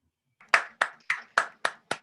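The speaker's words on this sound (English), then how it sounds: "if we could keep that applause going wherever you're at for all of our performers tonight" Six slow, distinct hand claps, evenly spaced and fairly close, ringing alone in an otherwise quiet room after a storytelling performance in Chicago.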